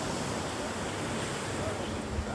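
Sea waves washing onto the beach at Batcham, a steady broadband roar of surf with some wind noise, constant and close throughout with no voices.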